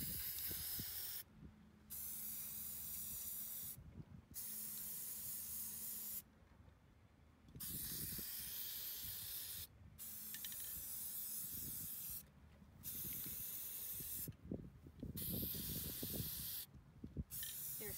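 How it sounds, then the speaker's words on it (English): Spray paint hissing from aerosol cans while hydro dipping scooter decks, several loud bursts of a few seconds each separated by short pauses, with faint rustling and handling noises between sprays. "Can you spray the purple?"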